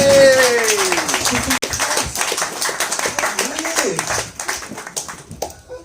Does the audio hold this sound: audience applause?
yes